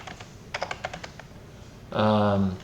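Quick, light clicks of a computer keyboard being typed on, a short run of keystrokes close by, followed by a brief burst of voice.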